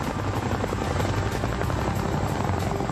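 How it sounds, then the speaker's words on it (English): A Chinook tandem-rotor helicopter's heavy rotor chop thuds steadily throughout, loud and close, with a deep engine drone underneath. "The most famous example is the Chinook."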